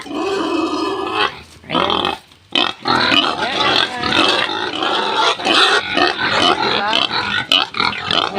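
Hungry pigs waiting to be fed squeal and grunt loudly and close by, in overlapping bursts of shrill cries and rough grunts that continue almost without pause.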